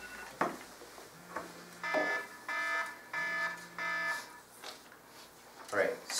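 Electronic timer at a debate round emits a series of repeated beeps in short, evenly spaced bursts, fairly faint and mixed with room noise and a voice.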